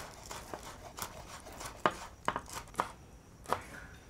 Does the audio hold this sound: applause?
no